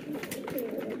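Pigeons on a pigeon farm coo softly in a brief, rolling murmur, close by with no talk over it.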